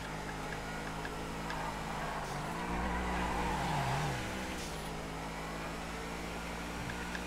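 A 9F Cabrio sports car engine in GTA FiveM hums steadily at moderate loudness, briefly swelling as it revs up and then easing back to an even drone, with no voices.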